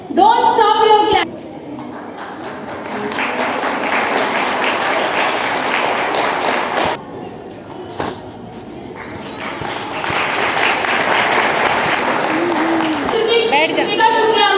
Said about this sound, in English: Don't stop your clap.